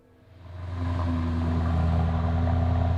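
A 4-litre bi-turbo V8 car cruising on the Autobahn, its engine swelling from quiet to a loud, steady rumbling drone with a deep growl that holds throughout.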